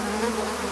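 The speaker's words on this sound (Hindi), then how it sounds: "ये मच्छर!" High, steady insect whine of mosquitoes in a cartoon camping scene, a continuous close buzz with no talking over it.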